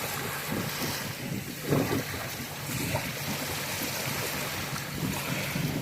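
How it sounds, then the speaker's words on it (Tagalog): Sea water washes along a beach in a soft, continuous rush of waves, with wind buffeting the microphone and no voices. "Dito na naman kami sa dagat."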